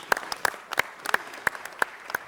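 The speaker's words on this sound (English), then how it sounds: "I want to give them a round of applause." A handful of distinct, separate claps at a city council meeting as the room applauds the Dorsey football team, sparse and moderately loud with gaps between them.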